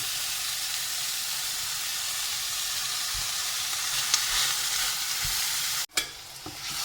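Ground beef fries in a pan, a steady, loud sizzle with bright crackling hiss that holds throughout, broken briefly near the end by a short gap and a clunk.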